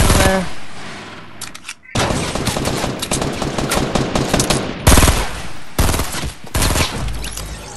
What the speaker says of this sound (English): Where are we getting shot at from?